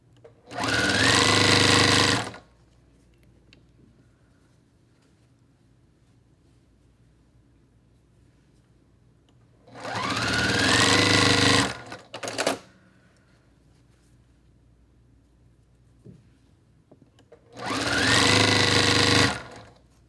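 A sewing machine stitches Spangled quilt blocks in bright fabrics, running in three loud, close bursts of rapid mechanical whirring with quiet gaps between them.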